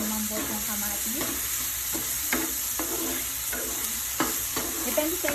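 Corned beef and tomatoes sautéing in a pan, a continuous sizzle of oil broken by repeated scraping stirs of a utensil against the pan, close and without talk.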